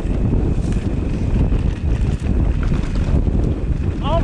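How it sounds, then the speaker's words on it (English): Strong wind buffets the microphone while riding a mountain bike trail, a loud continuous low rumble with gusty fluctuations throughout. "Oh my god, it's windy."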